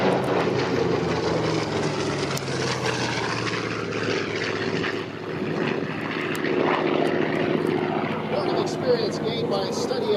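A Grumman F8F Bearcat piston fighter roars past at an airshow, its radial engine droning loud and continuous with a propeller buzz that swells and eases, while a voice narrates over it.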